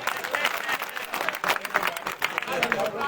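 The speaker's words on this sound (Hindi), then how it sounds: "ताली बजा सकते हैं आप" A crowd at a BJP state president's rural political tour event breaks into scattered, uneven clapping and crowd noise, with a voice talking over it.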